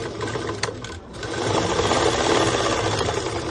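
A sewing machine double stitches the body of a school skirt, a loud, close, continuous mechanical whirr that dips briefly and then picks up speed again.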